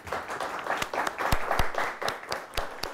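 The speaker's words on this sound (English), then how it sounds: "A nice round of applause, please." An audience claps for a high school quiz team in an applause round. The sharp, irregular claps are close and mixed with a softer crowd wash for about three seconds, with no talking.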